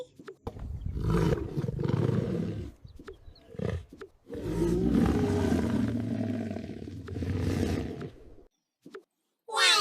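A lion roars loudly in two long, rumbling bursts separated by a short pause, with a brief faint gap near the end.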